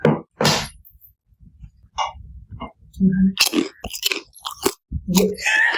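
Someone crunches and chews a crispy snack alongside tea, with sharp irregular bites and munching sounds close to the microphone, broken by short pauses and a few brief vocal noises.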